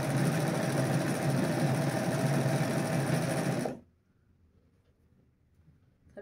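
A sewing machine runs in a steady, loud, fast mechanical whir for nearly four seconds, then stops abruptly, leaving quiet room tone.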